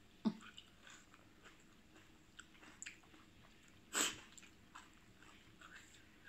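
Someone chews pickled-crab papaya salad, made with ingredients bought at a Khon Kaen market, in a quiet home. Soft, irregular wet chewing and biting runs throughout, with a sharper crunch near the start and another about two-thirds through.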